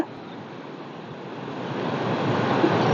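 Sea waves breaking near Nayaru bridge in Mullaitivu, Sri Lanka, heard as a steady broadband wash of surf with some wind noise, growing gradually louder over three seconds with no voices.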